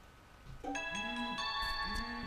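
A mobile phone ringtone breaks in with sustained, layered electronic tones over quiet outdoor background noise in Verona, steady and fairly close for about two seconds.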